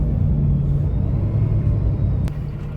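A Peterbilt 567 dump truck with an Allison 4500 Series transmission gives a loud, steady low engine rumble heard from inside the cab during a smooth downshift, with one sharp click near the end.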